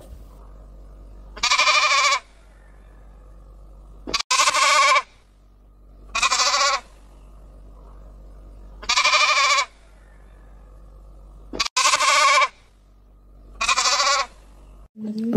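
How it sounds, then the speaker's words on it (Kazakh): Sheep bleating in six loud, separate calls spaced a couple of seconds apart, close and clear with nothing else in between. "Бұл қой. Қой маңырайды."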